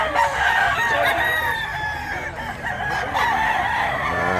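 A one-year-old rooster crows repeatedly at a bustling poultry market, several loud, drawn-out calls overlapping close by over a steady crowd murmur.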